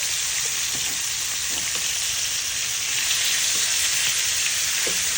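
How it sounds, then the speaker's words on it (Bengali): Fish fries steadily in hot oil, a loud, even sizzle with small pops and crackles throughout. "মাছটা ভাজা হয়ে গেছে প্রায়"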